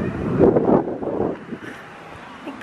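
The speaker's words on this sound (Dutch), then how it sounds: "Het waait wel heel hard." Strong wind blowing outdoors on a farm on a sunny day, roaring and buffeting the microphone in loud gusts that ease off partway through.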